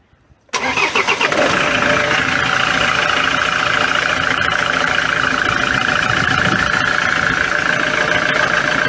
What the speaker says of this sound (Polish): Teraz tylko odpalamy na kabelki.